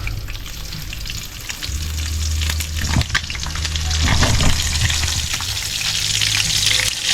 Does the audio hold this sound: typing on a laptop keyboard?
no